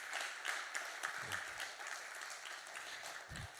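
Applause from a church congregation during a Sunday morning sermon, a soft, even patter of clapping that sounds fairly distant and keeps going with no voices over it.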